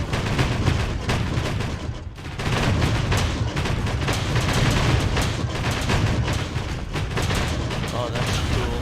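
Artillery and tank gunfire from a Panzer II battle in Total Tank Simulator: dense, continuous volleys of booms and rapid shots, loud and sustained with a brief dip.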